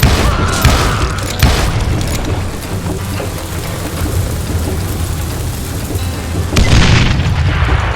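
Gunfire in the Western shooter game Call of Juarez Gunslinger, a few loud booming shots at the start and near the end over a dense, rumbling game soundscape.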